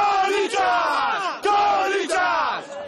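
Corinthians football supporters in a stadium cheering and chanting together, a loud, dense crowd roar with sung, rising and falling tones that surges in waves throughout.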